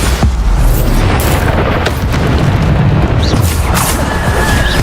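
In the game Hogwarts Legacy, the Bombarda spell bursts with loud, heavy booms and rumbling blasts over a dense, noisy battle backdrop, while a voice shouts spell names.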